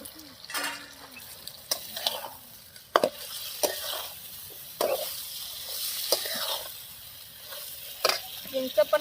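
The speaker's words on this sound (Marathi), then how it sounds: "मासे टाकून घेते आता" Fish pieces frying in oil in a pan while being stirred: a steady sizzle broken by sharp clinks and scrapes of the spoon against the pan, with no talk.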